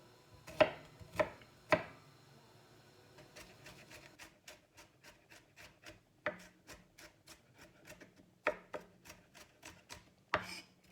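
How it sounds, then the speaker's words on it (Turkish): A knife chops onions on a board in uneven bursts of sharp taps, close and clear, with short pauses between runs of cuts. "Soğanlarımızı soyduk. Şimdi doğrayacağız."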